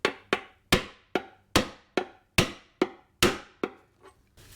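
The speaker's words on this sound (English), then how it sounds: "we'll take a little hammer, smack it in." A small hammer taps a water pump seal into place on a Ford Flex 3.5 EcoBoost, giving about eleven sharp, evenly spaced metallic knocks close up that fade slightly toward the end.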